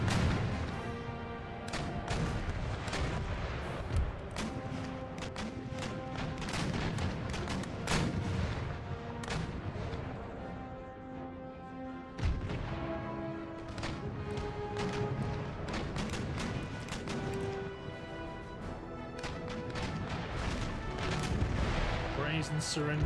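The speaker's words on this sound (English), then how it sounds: "You start firing round shot to try and get some of these guys to surrender." Cannons fire round shot in the video game Empire Total War, with repeated booming artillery blasts rolling over one another in a dense, continuous barrage while a voice talks over the battle.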